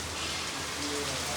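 Steady rain pours down outside a family home after hot, stuffy weather, a seasonal shower said to bring the cold. It makes a dense, even hiss that stays at a constant moderate loudness throughout, with no voices over it.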